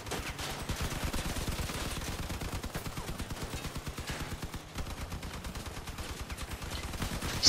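Rapid bursts of automatic gunfire in the vehicle-combat video game Crossout, a dense, steady stream of shots with brief pauses, loud and continuous without talk.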